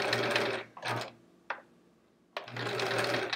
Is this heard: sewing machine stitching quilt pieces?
yes